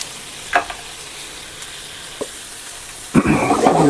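Masala with Kashmiri chili and cashew nuts frying in a pan: a soft, steady sizzle with a few scattered clinks of stirring, then a louder burst of crackling frying near the end, close and without speech.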